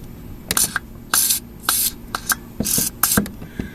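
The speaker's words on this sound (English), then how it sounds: "take some of this WD-40, not put it on where I just glued" Short hissing bursts of WD-40 aerosol sprayed near the window track of a Chrysler Sebring, about seven separate squirts of varying length, close and fairly loud with brief pauses between.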